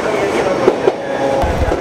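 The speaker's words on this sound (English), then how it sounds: "Did you see that train?" A Japanese bullet train passing produces a steady, close rushing rumble with a faint rhythmic clatter, holding level for the whole moment.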